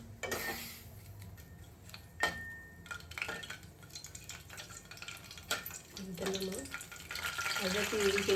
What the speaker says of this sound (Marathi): तेल तापला चांगला की आपले खडे जे मसाले आहेत ते आपण पहिलं टाकून घेऊया